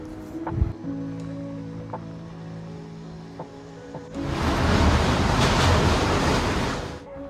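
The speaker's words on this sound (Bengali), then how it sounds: "আমাদের ট্রেন চলে এলো খড়গপুর স্টেশনে" A low steady mechanical hum, then a loud broad rushing roar swells in as a train pulls in close at Kharagpur station, holding for several seconds before easing off.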